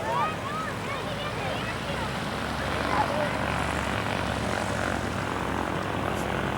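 Vintage propeller aircraft, one fitted with a larger Pratt & Whitney radial engine and constant speed propeller, fly past in fingertip formation; a steady loud droning roar with shifting tones holds throughout, under faint background voices.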